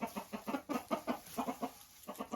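Several hens, silkie chickens among them, cluck in a steady, bouncy rhythm close by, a run of short repeated calls with a brief pause near the end and no talking.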